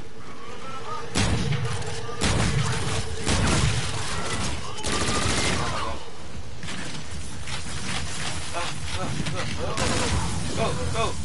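Shotgun fire in a video game: several loud, booming blasts spaced a second or two apart, heard over steady game noise with people talking throughout.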